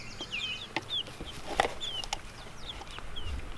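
Chickens cluck in short, scattered calls against outdoor farm background noise, with a few louder bursts mixed in across a few seconds.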